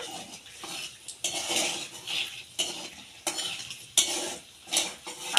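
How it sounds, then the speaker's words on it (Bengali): Whole dried red chillies, bay leaves, cinnamon, cloves and cardamom hiss and crackle in hot refined oil left from frying potatoes, rising in repeated sizzling bursts alongside the clink of a stirring spoon against the pan, with no talking. "আমি আলু ভাজা তেলের মধ্যে গোটা শুকনো লঙ্কা আর তেজপাতা ফোড়ন দিয়ে দিচ্ছি, আর দিচ্ছি দারুচিনি, লবঙ্গ আর এলাচ।"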